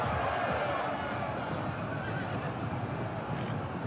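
A horse whinnies amid the thick, continuous din of a large siege battle in the Total War game's Dawnless Days Lord of the Rings mod, where Rohan cavalry clash with Mordor trolls. Hoofbeats sound inside the wall of noise.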